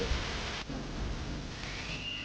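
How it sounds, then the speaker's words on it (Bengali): Rain falls outside during an evening at home, a steady soft hiss that drops briefly partway through and then continues evenly, fairly faint and distant with no talk. "এই যে আমাদের এখন বৃষ্টি হতাছে এখানে"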